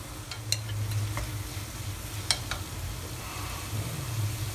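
Paneer tossed with chili powder and garam masala in a frying pan, a low sizzle broken by a few sharp scraping clicks as a spoon stirs, close and without voices.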